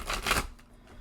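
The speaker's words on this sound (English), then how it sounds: "Okay, let's shuffle here." A deck of oversized tarot cards is shuffled in one brief, close riffle that fades into quiet handling noise.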